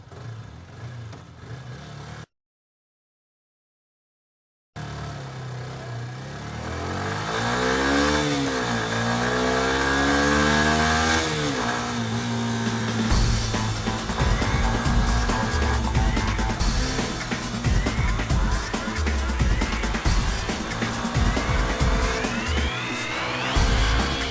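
A 2008 Yamaha YZF R125 motorcycle engine idles, then revs and accelerates hard on a karting track in Valencia. Its rising, buzzing whine sweeps upward through the gears and stays loud and sustained after a brief dropout near the start.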